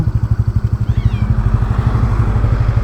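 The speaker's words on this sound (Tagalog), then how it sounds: "Tabi mo motor mo rito." A motorcycle on a road trip to Banaue in Ifugao chugs close by, its engine pulsing in a quick regular beat that settles into a steadier, busier idle rumble, with no voices over it.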